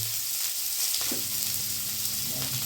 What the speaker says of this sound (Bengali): এবার তেলের মধ্যে দিয়ে দেবো আমি কাঁচা পেঁয়াজ